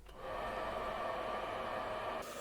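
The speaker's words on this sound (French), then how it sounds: "J'utilise maintenant le sèche-cheveux." A hair dryer running from a compact portable power bank switches on and then blows in a steady, loud whoosh for about two seconds before easing slightly, with no talking.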